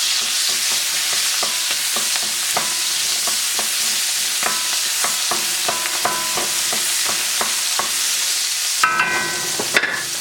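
Onions frying in sesame oil in a hot wok give off a steady, loud sizzle, with frequent sharp scraping clicks as they are stirred and tossed, and a few harder clatters near the end.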